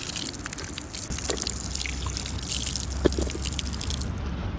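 Spring water trickles and drips steadily near an old bridge in a park in Kotli, Azad Kashmir, a soft continuous burble with small splashy drips, fairly quiet and close, with no talking.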